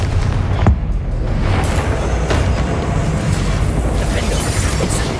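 In the video game Hogwarts Legacy, the Confringo fire spell erupts in a dense, roaring blast of explosive noise that stays loud and continuous throughout, with a few sharper cracks rising out of the rumble.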